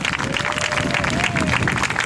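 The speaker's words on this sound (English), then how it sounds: "Let's have a round of applause for the newcomer." Audience applause for a newcomer at a recovery candlelight vigil, a steady wash of clapping and crowd noise filling the whole stretch, with a faint tone drifting through.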